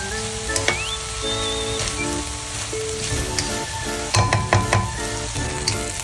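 Homemade dog food with pre-cooked rice sizzling and being stirred in a pan over low heat, a loud close fry with repeated scraping and clinking of the spoon, no voices.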